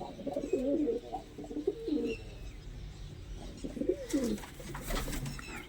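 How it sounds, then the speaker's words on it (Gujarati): Pigeons in a loft give low, rolling coos in two clear bouts, close and fairly loud over a soft background murmur, with faint chirps between. "તો આવા કાંક એટલા કબૂતર છે"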